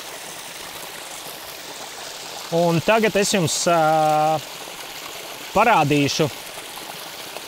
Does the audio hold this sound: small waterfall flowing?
yes